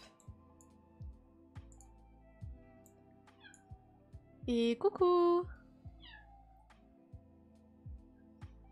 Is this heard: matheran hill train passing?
no